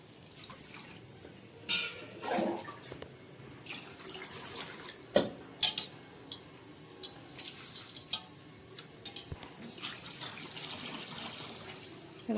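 Rice being washed in water for pulao splashes and swishes faintly, with scattered louder sloshes and clinks of grains and vessel at irregular intervals, quiet and close without talk.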